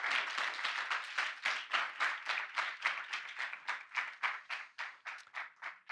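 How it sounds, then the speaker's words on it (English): Audience at a startup demo day applauds in a room, a steady run of sharp hand claps that swells and ebbs in rhythmic waves for several seconds, with no talk over it. "Give them and yourself a big applause."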